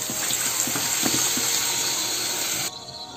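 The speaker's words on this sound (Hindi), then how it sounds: "मैं इसमें थोड़ा पानी डालूंगी।" Water poured from a tap or jug into a pan of mushroom curry on a stove, a steady close splashing gush that runs for nearly three seconds before dropping to a quieter hiss as the pouring stops.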